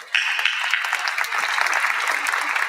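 An audience at a university Founders' Day convocation breaks into applause, a sudden burst of dense, bright clapping that holds steady and loud throughout.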